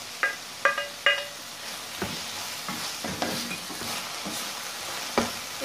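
Chopped tomatoes with onions sautéing in a pan for chicken piralan: a steady soft sizzle, with a few sharp spoon clinks against the pan near the start and scattered stirring scrapes.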